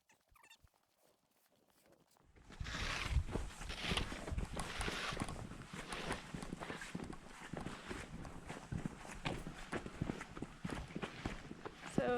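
Horses still being gentled walk around a training pen, their hooves clopping in a loose, continuous rhythm over a broad, rough background noise that starts abruptly after a quiet opening, with muffled voices mixed in.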